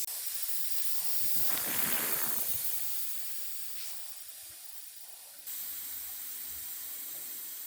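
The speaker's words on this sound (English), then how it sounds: "So I'm going to let this gas off" A Rust-Oleum metallic spray paint can being punctured and left to gas off, giving a steady, faint, breathy hiss that swells early on, then settles into a lower continuous hiss.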